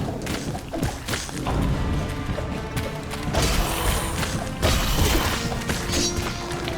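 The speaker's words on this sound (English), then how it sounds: "destroy the altar" Heavy thuds and crashing impacts from an altar being smashed in the video game Blood Knights, repeated blows in an irregular rhythm over dense, loud game action, with no speech.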